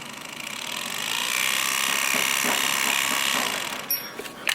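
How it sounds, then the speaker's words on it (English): The gearbox motor of a power chair runs with a steady electric whine and a faint mechanical hum as the shafts turn, rising slightly and then ending in a few small clicks. "the motor shaft just comes in here and rotates this, rotates that, then our output shaft turns"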